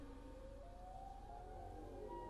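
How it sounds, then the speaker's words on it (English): A broken tornado-style siren in the Siren Head indie horror game wails as a faint, steady, slowly rising tone that keeps going without a break. "I hate that fucking noise he's playing. The fucking broken tornado siren or whatever it is."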